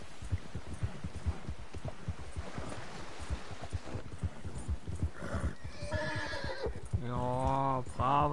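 A horse ridden in the video game Harry der Cowboy: steady rhythmic hoofbeats at a gallop, close and clear, ending in a loud drawn-out neigh.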